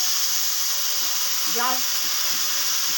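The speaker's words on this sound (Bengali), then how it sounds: "এবার আমি এর মধ্যে জল দিয়ে দিচ্ছি।" Water poured into rice frying in a pan for murighonto produces a steady, loud hiss and sizzle. It runs unbroken throughout, with a brief voice rising over it midway.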